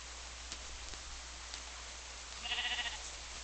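Sheep in the Minecraft video game bleating once, a short faint wavering call over quiet ambient background with a few soft clicks.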